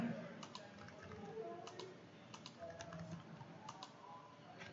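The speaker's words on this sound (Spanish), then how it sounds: "Pues nada, tecleo." Fingers type on a computer keyboard while working in CAD software, a steady run of light, close clicks in small irregular bursts over a faint background hum.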